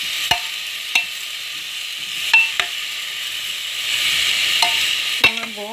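Potatoes go into a pan of meat already fried with garlic, giving a soft steady sizzle broken by several sharp spoon or utensil knocks against the pot.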